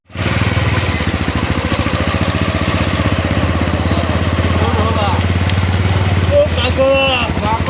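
Motorcycle engine idling close by, a steady low throbbing rumble that runs unbroken throughout, with faint chatter and brief voice-like sounds rising near the end.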